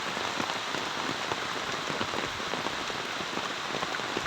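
Steady, dense rain pours down beside a stream where fish are being caught, a close, even patter of drops striking surfaces with no talking.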